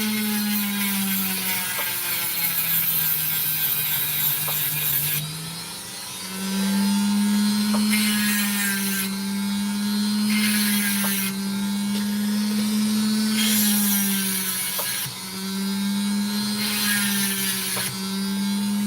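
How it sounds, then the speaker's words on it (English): A Lightning Ridge opal being ground down on a cutting wheel: a steady, loud, high mechanical whine that swells and eases as the stone is pressed on and lifted, with a low motor hum underneath. "I think this time around I'm just content to grind this piece away."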